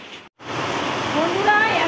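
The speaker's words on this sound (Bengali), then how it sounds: "এই যে প্রচন্ড বৃষ্টি নেমেছে" Heavy rain pours down in a rural village setting, a dense steady hiss with a brief dropout near the start, then continuing unbroken; a voice may be faintly present beneath it.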